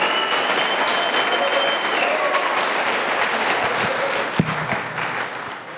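A church congregation applauds steadily, a dense, loud, continuous wash of clapping that holds even throughout and fades slightly at the end, with a faint voice underneath.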